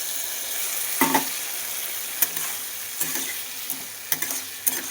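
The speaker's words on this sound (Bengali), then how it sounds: "এবার ভালো করে এগুলোকে কষাবো।" Vegetables with soaked mustard-poppy paste for a cucumber shukto are stirred and sautéed in a pan, giving a steady close sizzle punctuated by regular spatula scrapes about once a second.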